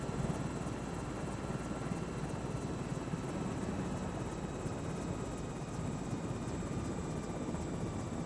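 A Sky Crane helicopter in Microsoft Flight Simulator 2024 gives a steady rotor and turbine roar, a constant broadband drone with a faint high whine, unbroken and without talk.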